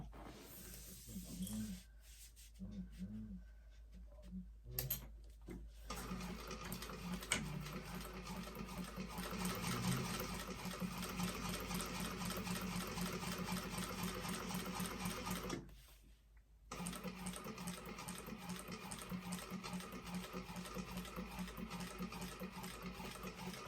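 Sewing machine stitching back over a seam line on a vintage expandable tote bag panel, attaching it to the front panel; a steady close whir runs continuously with a brief pause midway, and a voice talks faintly at the start.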